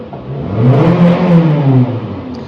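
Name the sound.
car engine revving while people fix cars nearby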